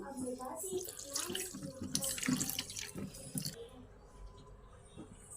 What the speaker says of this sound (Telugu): ఇప్పుడు అర గ్లాస్ నీళ్లు వేసుకొని ఒకసారి కలుపుకుందాం